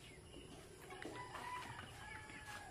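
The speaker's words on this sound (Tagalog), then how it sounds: "Mga manok natin." Chickens cluck softly in the distance amid faint farmyard background noise, several birds murmuring at once.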